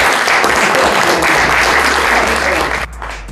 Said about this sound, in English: I'd like to give a warm round of applause,